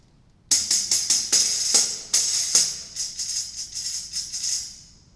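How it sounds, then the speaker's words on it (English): A tambourine played in a lively pattern, its jingles crashing in bright bursts with sharp hits over a steady shimmering rattle, close and fairly loud, no talking. "Let's just take a listen a little bit to the tambourine."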